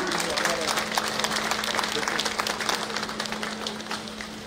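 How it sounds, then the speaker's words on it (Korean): At a Bareun Party campaign launch rally, a crowd claps steadily to welcome a speaker, with a dense mass of hands over a constant low hum and voices faintly mixed in. "큰 박수로 맞이해 주시기 바랍니다"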